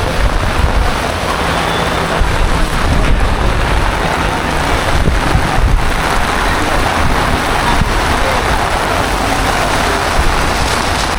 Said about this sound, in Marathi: ॲक्च्युली खूप पावसाचा जोर वाढला आहे आता